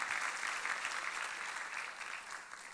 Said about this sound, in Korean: 박수 좀 쳐줘요.